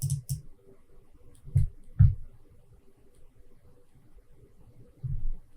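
A computer mouse clicks to open a crystal-shape modeling software launcher, several crisp, close clicks, some in quick pairs, with quiet gaps between them and no talking.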